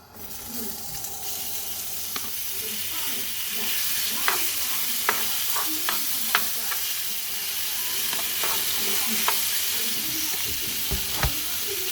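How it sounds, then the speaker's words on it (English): Meat sizzles and fries in a hot pan with a steady hiss, punctuated by occasional clinks and scrapes of stirring. "I just got done chopping up the meat, so I'm going to start browning it a little bit"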